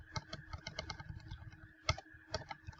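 Quick, uneven clicking of keys on a computer keyboard, typed in a steady burst with a few louder keystrokes, close by and fairly quiet, with no talking.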